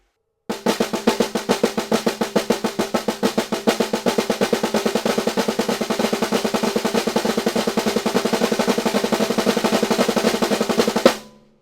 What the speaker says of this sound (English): Swiss triplets on your hands are going to look like this.